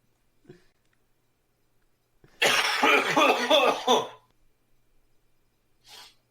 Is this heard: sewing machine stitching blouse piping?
no